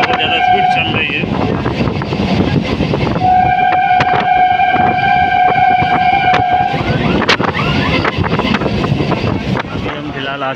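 A Sealdah local train on the Kalyani–Sealdah line runs at high speed, its loud continuous rumble and rattling wheels filling the whole stretch, with sustained whistle-like tones from the carriage in the middle and a voice talking over it.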